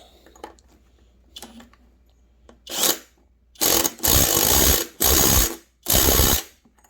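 Ratcheting tool clicks while tightening parts during a crankshaft install on a Husqvarna 390XP chainsaw, several loud close bursts of rapid ratchet cranking separated by brief pauses.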